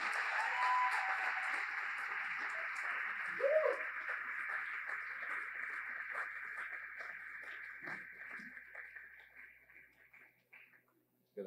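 A church audience applauds with a dense, steady clapping that swells early, holds, then gradually thins and fades to silence near the end.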